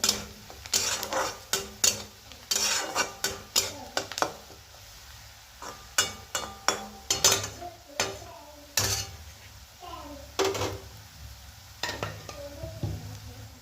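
A spoon stirs and mixes spiced ingredients for a simple bhaji in a pan, giving repeated sharp scraping clinks in an irregular rhythm over a faint sizzle, close and fairly quiet.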